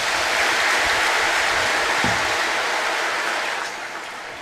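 A large congregation applauds steadily in a reverberant church during Mass, a dense wash of clapping that holds for several seconds and then eases slightly.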